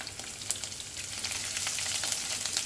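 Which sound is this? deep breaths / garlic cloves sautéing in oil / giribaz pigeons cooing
garlic cloves sautéing in oil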